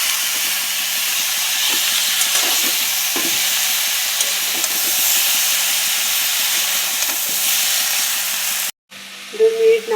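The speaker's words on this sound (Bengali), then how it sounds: "2 মিনিট নাড়াচাড়া করে গ্যাসকে লোতে রেখে ঢাকা চাপা দিয়ে দিলাম।" Chopped Malabar spinach stir-fried in a hot pan, a steady close sizzle and hiss with scraping stirs throughout, cutting off briefly near the end before a quieter clatter.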